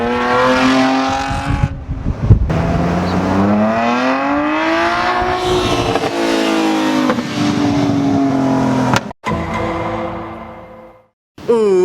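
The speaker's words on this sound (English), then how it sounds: "it's got that aggressive inline six sound" A heavily modified BMW 128i with an inline-six engine and aggressive exhaust revs up loud and close, its pitch rising and falling through long pulls, with brief cutoffs near the end.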